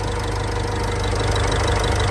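A car engine idles steadily after its fuel injectors have been coded, with a constant low rumble and faint knock that holds unbroken and fairly close throughout.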